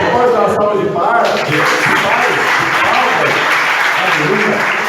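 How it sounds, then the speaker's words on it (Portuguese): A church congregation breaks into loud, sustained applause, the clapping dense and close and filling the room, with voices rising briefly at the start. "Você pode dar uma salva de palmas?"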